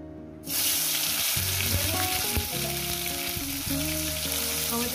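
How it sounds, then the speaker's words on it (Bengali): Tomatoes hit hot oil with a dash of turmeric for a Bengali rohu fish curry, setting off a loud, sudden sizzle that keeps crackling steadily and close up after a brief quiet start. "এই তেলে দিয়ে দেবো টমেটো"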